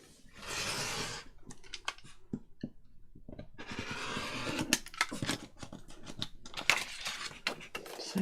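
Scissors cut paper for a junk journal in a run of close, crisp snips and rustles, with paper handling between the cuts.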